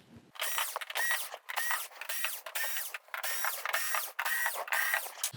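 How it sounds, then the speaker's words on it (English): A power screwdriver whirs in repeated bursts to back screws out of the rear panel of a Sony XBR-65X900F television. The bursts are close and steady, with brief pauses between them. "But let's get these screws out and we'll get started."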